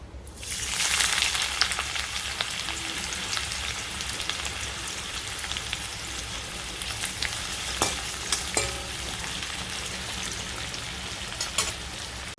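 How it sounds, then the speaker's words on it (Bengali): Sliced onions fry in oil for biryani birista, a dense continuous crackling sizzle like heavy rain that holds steady and loud throughout, with occasional faint clinks from the pan and no voices. "এবার পেঁয়াজটা ভেজে বেরেস্তাটা বানিয়ে নেব।"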